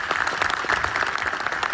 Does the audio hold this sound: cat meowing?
no